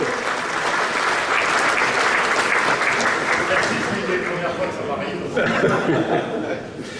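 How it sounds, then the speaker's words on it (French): Loud applause from a crowd at a New Year's greetings event, steady and sustained, with a few chuckles mixed in before it starts to taper off near the end. "Vous pouvez l'applaudir, allez, on y va."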